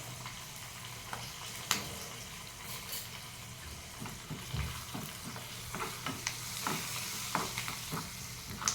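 Hot oil sizzles and crackles steadily as spices and red chilli temper in it, with scattered sharp pops and a few scraping stirs, close by and with no voices.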